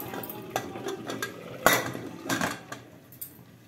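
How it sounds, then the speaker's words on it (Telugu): A pressure cooker lid is set onto the cooker with a few metallic clanks and scrapes, one sharper knock in the middle, close and fairly loud. "మళ్ళీ కుక్కర్ మూత అట్టగానే ఇట్లా పెట్టుకోవాలి"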